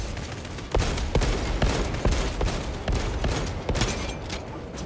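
Gunfire aimed at the player in the video game Warhammer 40K: Space Marine 2, a dense fusillade of repeated close shots and bursts over a steady battle roar, loud and continuous without speech.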